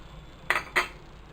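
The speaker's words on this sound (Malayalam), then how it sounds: "ഒരു ഫ്രൈയിങ് പാൻ അടുപ്പിൽ വെച്ച്" A frying pan set down on a stove in a kitchen, giving two quick metallic clinks close by against a quiet background.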